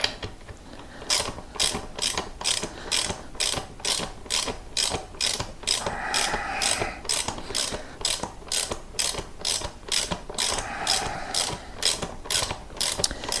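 A hand ratchet tightens a fastener on a Royal Enfield Meteor 350 motorcycle wheel, giving a long run of rapid, evenly spaced metallic clicks, close and steady throughout with no talking.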